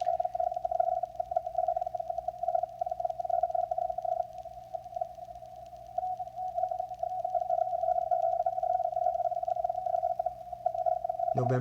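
Morse code on amateur radio during a 160-meter ARRL contest, a steady single tone keyed in rapid dots and dashes over faint static hiss, continuous for several seconds.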